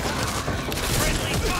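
Shotgun blasts in the zombie shooter Back 4 Brad merge into a dense, steady wall of gunfire lasting the whole moment, with voices faintly mixed in.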